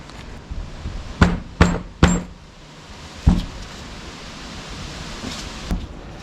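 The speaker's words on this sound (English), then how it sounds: "I had to put it on the floor and hammer it, but we got it." A part of an early 60cc Yamaha four-wheeler, stuck by corrosion, is hammered on a floor: about five sharp metallic blows, three in quick succession then two spaced apart, close and loud over quiet room noise.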